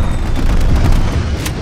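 An air strike explosion in Call of Duty: Black Ops Cold War, a loud, deep, sustained rumbling boom that fills the short moment, with a brief crackle near the end.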